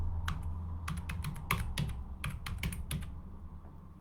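Rapid clicking keystrokes on a computer keyboard, close and distinct, coming in uneven bursts over a low steady hum, with no speech.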